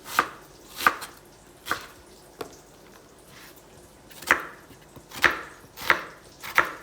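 Knife chopping vegetables into chunky pieces for chilli, sharp, distinct board strikes spaced unevenly, some in quick pairs, others after pauses, close and fairly loud with no talking.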